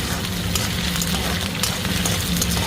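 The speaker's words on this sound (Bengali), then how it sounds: "ভালো করে ভেজে নেবো আলুটা" Diced potato frying in hot oil with cumin seeds gives a steady, dense, close sizzle that holds at an even level throughout, with no one speaking.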